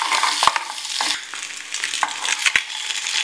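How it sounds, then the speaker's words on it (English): Eggs sizzle and fry in a spicy masala in a pan, with a steady hiss and several sharp scrapes of a spoon stirring up close. "and we'll saute this well."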